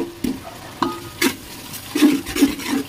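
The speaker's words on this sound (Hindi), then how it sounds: "मसाले को अच्छी तरह से भून लेना है, टमाटर भी अच्छी तरह से मेल्ट हो चुके हैं" Masala with melted tomatoes and salt sizzles in a pan as a spoon stirs and scrapes it in repeated close strokes, with quiet frying underneath.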